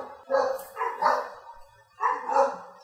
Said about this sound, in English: What's up with all the dogs barking?